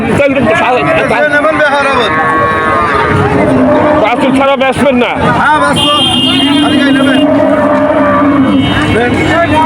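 Cows mooing loudly in long, drawn-out calls at the Shahpur cattle market, amid a noisy crowd of chattering voices and passing traffic, with someone speaking close by.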